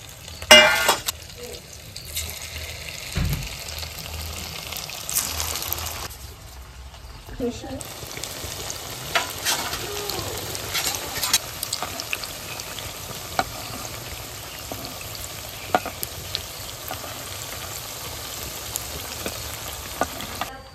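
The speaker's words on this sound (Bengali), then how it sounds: "বাকি পিঠাগুলো আমি এইভাবে ভেজে নিচ্ছি।" Small pitha rice cakes fry in a pan with a steady close sizzle. Scattered clinks and stirring scrapes break in, along with a brief pause, while a person talks at times.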